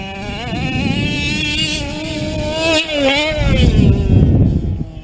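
A gas-powered OBR 34SS RC boat with a Reed engine is launched at throttle, its small two-stroke motor buzzing loud and high, rising and wavering in pitch as it revs and levels out on the water, with wind noise on the microphone.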